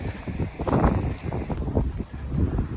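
Steady wind buffeting the microphone at a beach, a low rumbling roar with uneven gusts swelling and fading throughout, loud and close.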